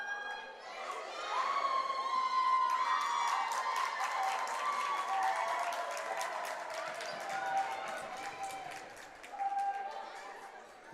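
Crowd at a varsity boys high school basketball game, Nixyaawii Golden Eagles versus Union Bobcats, cheering and shouting steadily with whistles and squeaky sneakers, a dense roar of many voices sustained throughout.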